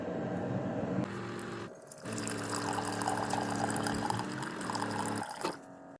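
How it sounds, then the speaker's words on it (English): Water warming and gurgling inside a Keurig K-Duo coffee maker during a fresh-water flush, a steady close hissing, bubbling rush that cuts out briefly twice before stopping at the end. "you can hear the water warming up inside the Keurig"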